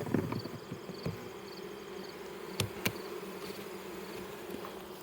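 Honey bees in a Layens hive: a steady, close swarm buzz fills the whole stretch, broken by a couple of sharp knocks.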